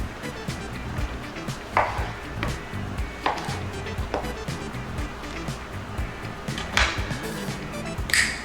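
A knife chops vegetables into bite-size pieces for albondigas meatball soup, giving a run of irregular knocks on a cutting board with soft kitchen clatter in between.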